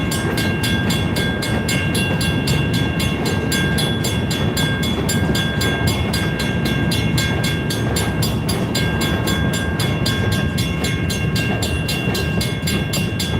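An Escanaba & Lake Superior Railroad train switching cars, a loud, continuous rumble of rolling wagons with a fast, regular clicking from the wheels, steady throughout and free of talk.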